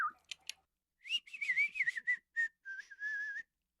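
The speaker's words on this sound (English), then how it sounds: "I know how to whistle." A person whistles a short melodic tune: two quick chirps, then a longer warbling phrase and a few sustained notes, clear and close with no talking.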